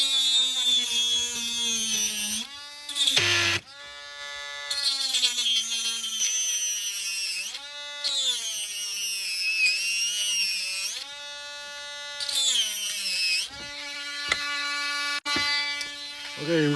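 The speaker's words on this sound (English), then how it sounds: "we're going to use this little battery operated Dremel, and we're just going to drill a hole through here." A small battery-powered Dremel rotary tool whines at high pitch while drilling holes, its tone dipping and rising as it bites into material, with brief pauses between bursts.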